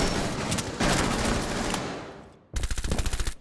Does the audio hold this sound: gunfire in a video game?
yes